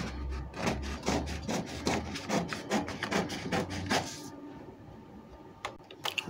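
Scissors cutting a dress pattern through fabric, a close rhythmic series of rasping snips for about four seconds, then near silence with a couple of faint clicks.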